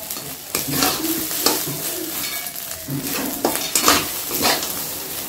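Rice for veg pulao is stir-fried in a pan: loud scraping and tossing strokes come in quick succession over a constant sizzle, close up and with no voices.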